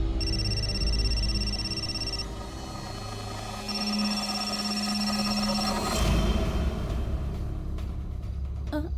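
An electronic phone ring tone sounds in two long repeated bursts over a low rumbling background, fairly close and steady.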